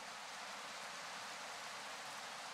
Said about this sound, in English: even though the rain got heavier